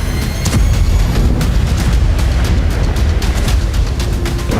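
An IDF strike on a Hezbollah site produces a loud, continuous barrage of booming blasts and crackling bursts with no pauses between them.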